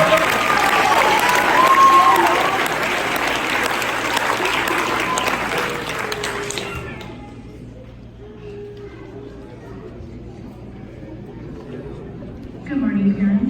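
Audience applause at a middle school graduation ceremony, a loud dense wash of clapping that carries for about seven seconds and then drops away to quiet room noise, with voices talking in the background.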